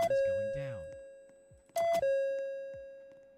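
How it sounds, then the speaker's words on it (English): Down chime of a newly generated IVX-model elevator: two clear electronic ding tones with sustained ringing decay, interrupted by brief talk between them. "Now we're gonna get the down chime."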